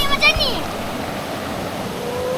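Stream water rushes steadily over flat, slippery rocks at a riverside campsite in Ulu Kongsor, a continuous broadband wash with a brief splash and high voices at the start.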